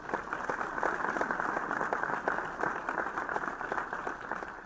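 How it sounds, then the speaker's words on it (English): Steady applause fills a graduation ceremony in the video game The Crooked Man, a dense even patter of many hands at moderate volume with no voices over it. "A round of applause for my fellow graduates."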